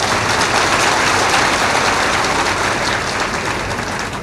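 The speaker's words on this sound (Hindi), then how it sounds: "थोड़ा जोर से भी ताली बजाया करो।" A large audience claps together at a spiritual discourse, dense continuous applause, loud and steady, holding without a break before easing slightly near the end.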